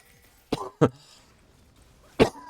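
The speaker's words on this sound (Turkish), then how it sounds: "bunda da öksürüyorum" Three sharp, separate coughs from a man who is still ill, spaced unevenly over a couple of seconds and close to the microphone, against a quiet background during a gaming session.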